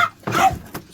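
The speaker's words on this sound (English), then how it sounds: "Stop barking!" A dog barks indoors, one loud close bark followed by a shorter yip, with no talking.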